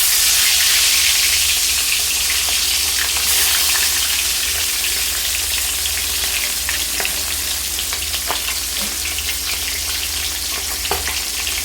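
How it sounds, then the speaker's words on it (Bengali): Rohu fish heads rubbed with salt and turmeric fry in hot oil, giving a loud, steady, crackling sizzle with scattered pops throughout and no speech. "মাছের মাথাগুলো একদম কড়া করে ভেজে তুলে নেব।"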